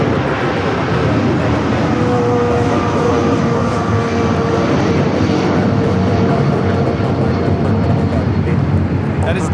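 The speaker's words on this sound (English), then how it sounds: "That is Delta Airlines 528 taking off to Atlanta on the 757-300" A Delta Air Lines Boeing 757-300 takes off from Los Angeles airport, a loud continuous engine roar held steady throughout, heard from a spotting position near the runway.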